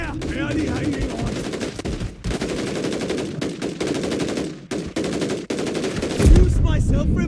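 Rapid automatic gunfire in Warzone, dense and loud bursts rattling almost continuously, with a heavier thump near the end and game chatter underneath.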